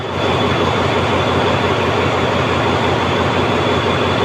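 An Alstom diesel locomotive hauling a long-distance train rumbles steadily at close range at Don Mueang station, Thailand, with a loud, continuous mechanical drone and a high whine, like idling or moving through the station.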